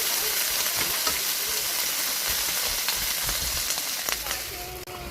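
Eggs fry in hot oil with a loud, continuous sizzle and crackle close by, scattered pops and spatters rising above the hiss, while voices murmur faintly underneath.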